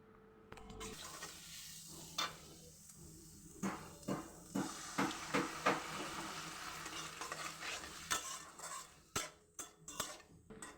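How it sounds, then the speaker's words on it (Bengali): Loitta dried fish frying with chopped onion, salt, turmeric and chilli powder in a pan, soft steady sizzle under rhythmic spatula scrapes and metallic clinks against the pan. "তো আমি শুটকিগুলো এখন ভেজে নিয়ে তারপরে পেঁয়াজ কুচি দিয়ে দিয়েছি।"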